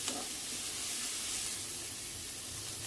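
Onions fry in a pan with a soft, continuous sizzle while a wooden stick stirs them, a faint scrape at the start, quiet and close.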